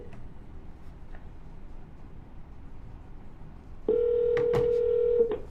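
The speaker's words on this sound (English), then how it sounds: "All right, and we're calling." An outgoing phone call on a cold-calling line plays a short series of dialing tones, then a steady ringback tone for about a second and a half, loud and clear with no talk over it.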